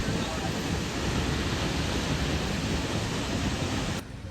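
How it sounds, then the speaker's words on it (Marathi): Steady roaring rush of a waterfall on a Mahabaleshwar outing, a dense broadband wash that holds constant and close before easing slightly at the very end, with no other sound standing out. "तो धबधबा पडतो आणि आवाज काय येतो धबधब्याचा"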